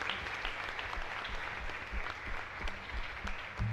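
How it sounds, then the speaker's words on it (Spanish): Audience applause during a live-streamed Catholic Mass in a chapel, a steady wash of clapping from a congregation heard at moderate distance, with faint low murmurs underneath. "Un aplauso fuerte"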